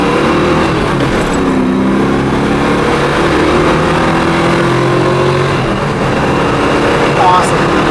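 A 1970 Ford Mustang Boss 302 V8 revs hard in first gear, its rising engine drone loud and steady throughout, heavily masked by wind and road roar with people talking over it.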